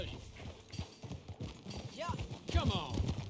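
Horse hooves clip-clop at a steady walking pace in the video game Red Dead Redemption 2 while someone speaks over them, with faint background ambience.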